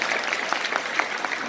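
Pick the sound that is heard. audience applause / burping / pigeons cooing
audience applause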